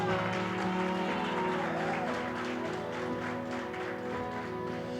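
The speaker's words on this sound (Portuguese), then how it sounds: "Aplauda o Senhor mais forte, amado." Church congregation applauding during a sermon, broad continuous clapping from many people blended with a sustained musical hum and room noise underneath.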